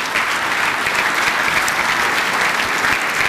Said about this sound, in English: Let's hear it for all the finalists.